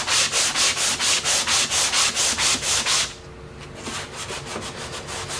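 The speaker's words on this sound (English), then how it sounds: "need a little extra sanding, like right in here" Rhythmic back-and-forth sanding strokes worked into the corners of oak cabinets, about a dozen even, loud rubs at a steady pace that stop partway, leaving quieter scattered scraping and handling.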